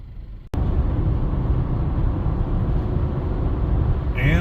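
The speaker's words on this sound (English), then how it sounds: "hit the rush hour gridlock here. Speed limit is 60 and I'm going 0." Rush hour gridlock on a Minneapolis highway heard from inside a stopped vehicle, a steady low rumble of engines and road noise that starts abruptly and holds constant, with no talking.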